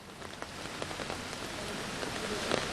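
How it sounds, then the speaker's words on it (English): Heavy rain pouring down in Cape Town during a cold front with flooding, a dense continuous hiss of drops pattering on surfaces with scattered sharper splashes, steady and close. "Now all of a sudden we have an abundance of rain, which is fantastic to see."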